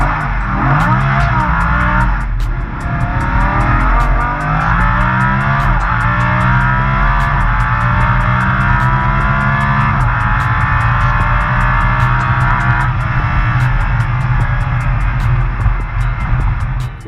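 A Lamborghini Huracan accelerates hard off a greasy drag strip start line, its engine roaring loud and close with rising revs through quick gear changes, sustained throughout.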